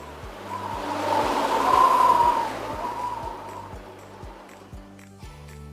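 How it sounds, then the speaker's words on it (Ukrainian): Wind rushes in a broad, swelling gust that builds, peaks and slowly fades, with a steady low rhythmic thumping running underneath throughout. "Так, це шум вітру."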